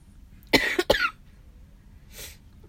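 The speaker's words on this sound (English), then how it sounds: "I am so sorry about this cough." A person coughs in two harsh bursts close to the mic, followed about a second later by a softer, breathy cough over a quiet room.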